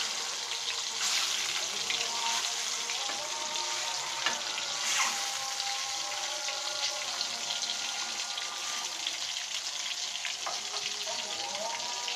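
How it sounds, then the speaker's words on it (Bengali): Eggs frying in oil in a pan, producing a continuous bright sizzle with crackling pops at a moderate, even loudness and no talking. "ডিমটা আমরা একটু তেলের উপর ভেজে নিচ্ছি"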